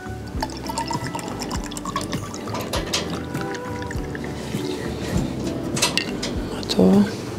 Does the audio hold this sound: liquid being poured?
yes